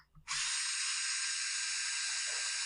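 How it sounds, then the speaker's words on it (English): A power driver whirs steadily and loudly up close while loosening screws on the cylinder cover of an Echo CS680 chainsaw, starting after a brief soft clatter and holding one continuous buzzing tone. "We're going to loosen up a bunch of screws to get that cylinder cover off"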